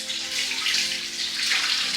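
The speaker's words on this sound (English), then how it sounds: "now that I have finished the juice, I'm just going to put it in this straining bowl" Homemade green celery juice splashes in a steady, continuous hissing pour into a straining bowl, close and fairly loud, with no talking.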